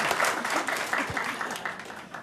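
Applause from the audience at a city council meeting, a moderate, fairly even patter of many hands clapping for a couple of seconds in a large chamber.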